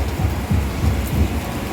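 Heavy rain pours steadily and loudly, a dense hiss with low rumbling surges rising and falling throughout, no voices over it.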